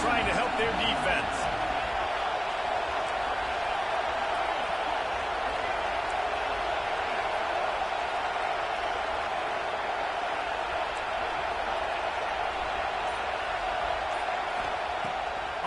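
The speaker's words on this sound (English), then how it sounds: "Listen to this crowd just shaking the girders of this place, trying to help their defense." A packed stadium crowd at a college football game roars in a dense, constant wash of noise while the home defense is on the field, loud and unbroken from start to finish.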